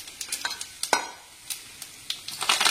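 Chillies, mustard seeds and cumin hit hot oil for tempering, crackling and sizzling in short sharp pops with quick stirring scrapes, near and fairly quiet.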